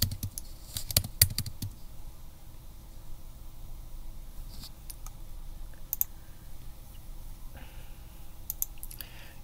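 Fast typing on a computer keyboard while entering a web link on a Chromebook, bursts of light, close clicks separated by short pauses over a low steady background hiss, no talking.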